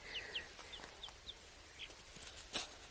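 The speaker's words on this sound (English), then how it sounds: "chickens are sleeping in the coop for the very first time tonight" Chickens in a backyard coop at night give a few soft, scattered clucks and chirps, faint and fairly close, over a quiet background hiss.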